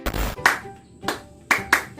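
A church congregation in Manokwari clapping in a patterned rhythm, with sharp close bursts in quick groups separated by brief pauses, and no talking.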